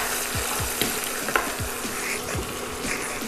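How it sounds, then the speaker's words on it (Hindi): Finely chopped tomatoes are stirred into frying browned onions in a pan, a constant sizzle with a few soft scraping strokes of a spoon, close and moderately loud. "तो इसमें हम 2 बारीक कटे हुए टमाटर डालेंगे"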